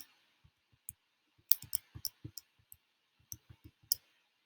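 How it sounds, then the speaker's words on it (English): Fingers tapping numbers into a calculator, a sparse string of small plastic key clicks, some in quick clusters, close and quiet against silence. "I'm going to type that into my calculator."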